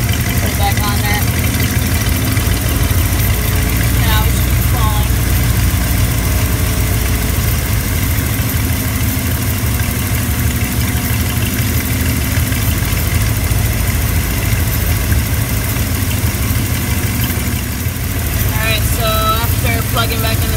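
A Ford Bronco 5.8L engine idles with its fuel pressure regulator disconnected, a loud, steady low rumble running throughout with someone talking over it.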